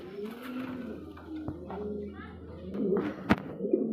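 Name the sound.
pigeons cooing at a pigeon sale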